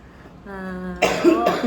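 A brief voiced sound followed by two harsh, close coughs in quick succession.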